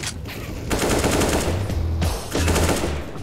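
Automatic gunfire in the video game CS:GO comes in two loud rapid bursts separated by a short pause, close and dominant with no talk.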